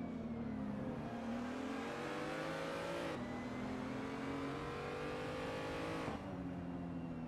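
A BMW M235i race car in the Assetto Corsa racing game at the Nürburgring Sprint circuit, its engine note held loud and steady with pitch dropping in steps as it brakes and downshifts, no voices over it.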